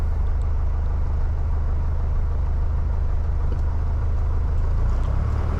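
A small piston-engine aircraft holds a steady, loud run-up at full mixture near 2,000 RPM on the ground at DeKalb-Peachtree Airport, a continuous droning rumble with no break and no talking.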